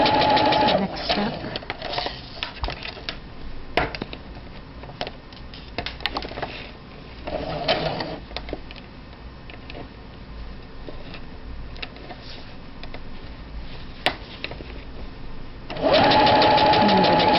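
A sewing machine stitches a French seam in fabric, running steadily with a dense rapid needle rattle for most of the stretch, louder bursts near the start and end as the foot pedal speed changes, close up.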